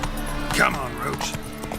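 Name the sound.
horse Roach's hooves in The Witcher 3 video game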